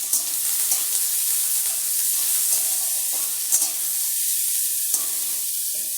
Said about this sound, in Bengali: পেঁয়াজটা একটু লালচে লালচে করে ভেজে নিয়েছি